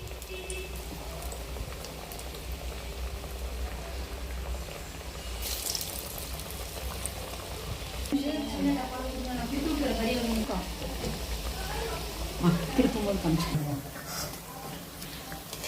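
Tapioca and dal vadai patties frying in hot oil, a steady crackling sizzle with bursts of bubbling, with a voice talking over part of it.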